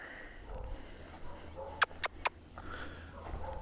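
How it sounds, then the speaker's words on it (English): A dog gives three sharp, quick barks in a row, somewhat distant, over a quiet outdoor background. "Now y'all got the dogs barking."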